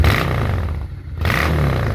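A 2006 Honda VT 600 Shadow motorcycle engine runs loudly and steadily nearby, its tone briefly dipping midway before rising again, with no voices.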